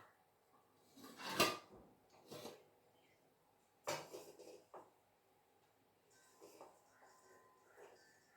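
Steamed ragi flour is moved into a metal vessel in a home kitchen, with a few scattered clanks and scrapes of pots and utensils, quiet and close, separated by pauses.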